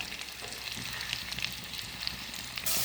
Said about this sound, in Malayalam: മൺചട്ടിയിൽ കുറച്ച് വെളിച്ചെണ്ണ അടുപ്പത്ത് വെച്ചിട്ടുണ്ട് ഒരു ഒന്നര ടേബിൾ സ്പൂൺ കാണും അതിലേക്ക് സവാള ഇട്ട് കൊടുക്കുന്നത്